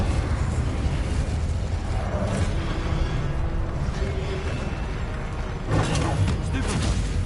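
An Incendio fire spell from Hogwarts Legacy erupts in loud whooshing bursts over continuous game noise, with a sharper flare-up shortly before the end.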